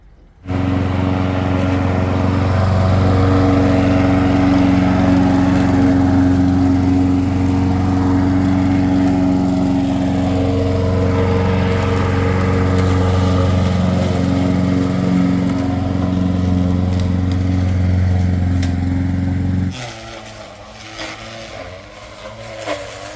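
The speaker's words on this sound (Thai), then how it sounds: "พอบ้านตัดหญ้าไป" A petrol lawn mower runs steadily and loudly close by in a home garden for about twenty seconds, its engine hum constant, then it cuts off abruptly, leaving quiet outdoor ambience.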